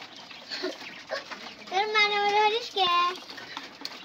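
Quails squabbling at a small quail farm, a short run of shrill harmonic calls and chirps rising over a busy background of clucking and scuffling birds, fairly close.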